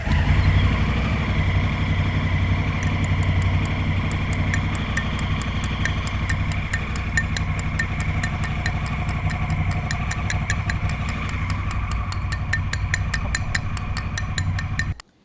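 A used motorcycle engine idles steadily up close, a continuous low rumble with a fine rapid ticking throughout, and no talk over it.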